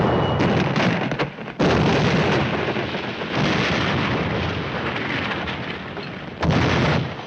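Artillery fire and shell explosions in a 1951 WW2 tank combat film set in France, with heavy booming blasts landing one after another. Each burst is loud and close, and long rumbling tails fade between the impacts.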